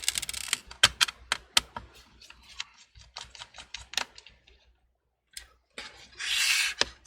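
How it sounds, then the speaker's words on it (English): A Torx T8 screwdriver undoes the screws holding down a MacBook Pro screen, a close series of small, irregular clicks and ticks with brief pauses and a soft scraping rustle near the end. "Remove the 3 screws holding down the screen."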